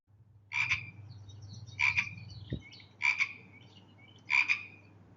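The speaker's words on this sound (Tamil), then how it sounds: "வேலியோரமாக தவளை ஒன்று தத்தி தத்தி சென்றது" A frog croaks beside a fence: four loud, evenly spaced rasping croaks about a second apart, close by, over a low steady hum and one brief thump.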